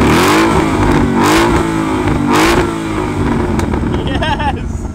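A Mustang exhaust revs hard and loud, reaching 107 decibels, with a deep rumbling roar that surges in several bursts, then settles to a rough idle.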